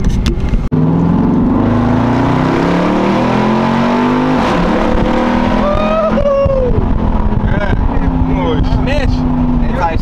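A Jeep Trackhawk's engine surges and revs while driving in traffic, a loud close drone rising in pitch with each acceleration, with occupants talking throughout.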